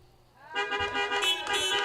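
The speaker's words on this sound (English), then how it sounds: "I got a honk." At a high school graduation, a car horn starts after a short pause and blares as one loud, sustained honk with slight wavers in level until the end.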